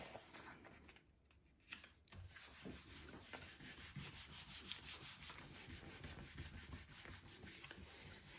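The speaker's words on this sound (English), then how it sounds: "giving it a good rub, getting my fingers in between those shapes to make really good contact, to increase the definition" Fingers rub paper firmly against a gel printing plate inked with Payne's grey, making a steady, rhythmic, close papery scrubbing that runs continuously after a brief quiet start.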